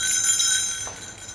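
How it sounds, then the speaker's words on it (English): Small bells ringing for a crowd, bright sustained metallic tones that shimmer briefly and then fade away. "everybody ring a bell"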